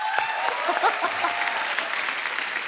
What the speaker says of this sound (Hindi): उरी पिक्चर में क्या काम के लिए विक्की जोरदार ताली हो जाए